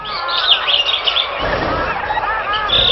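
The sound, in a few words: flock of long-necked milk-white birds in trees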